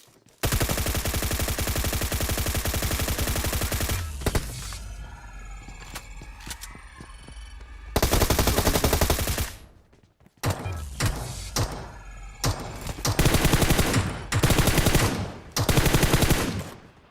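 Automatic rifle fire in the mobile battle-royale game PUBG Mobile, with long loud sustained bursts and several shorter volleys separated by brief gaps, plus sharp single cracks in between.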